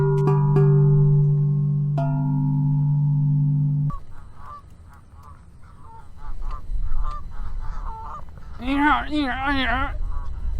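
Several geese honk loudly and close by in a burst of repeated, overlapping calls near the end, after a stretch of steady tonal sound and background noise.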